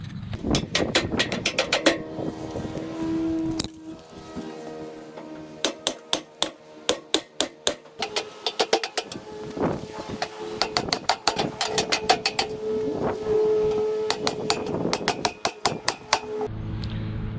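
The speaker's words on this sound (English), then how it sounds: "hammering in some of these stakes just to make sure that the planters can't fall off of the concrete" Stakes being hammered into the ground beside planters on concrete, outdoors: sharp repeated taps in irregular runs, some fast, some spaced, moderately close with no talk.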